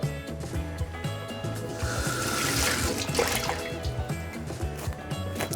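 Tap water runs steadily into a box to wet it before cling film is laid in, a close, continuous splashing flow with no talk.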